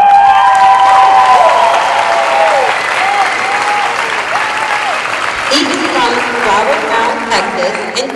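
Grandstand applause at a U.S. Air Force training squadron graduation ceremony, dense sustained clapping from family members in the stands with a few cheers, while a voice talks over the continuous clatter.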